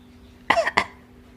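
Two short, sharp cough-like bursts come in quick succession from a pet bird imitating a cough nearby, with quiet background before and after.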